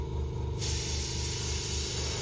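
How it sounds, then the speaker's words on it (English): Airbrush spraying Alclad 2 chrome paint: a steady close hiss that swells louder and brighter partway through over a pulsing low compressor drone, with no voices. "when I spray, I make sure it's a bit wet when it goes in there"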